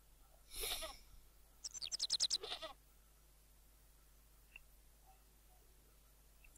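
Goat bleats in the PS1 adventure game Baphomets Fluch (Broken Sword), one short cry followed by a quick stuttering run of bleats, fairly close and clear over a quiet game background, then near silence.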